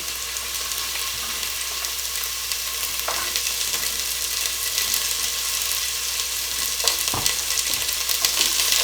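Celery sizzling steadily in a hot soup pot, a loud continuous frying hiss with occasional scrapes and knocks of a spoon stirring it.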